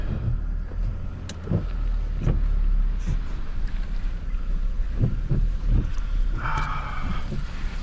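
Truck towing a camper in tow-haul mode, rolling steadily down the road with continuous low road rumble and wind buffeting the microphone, a few soft knocks and rattles scattered through, no talking.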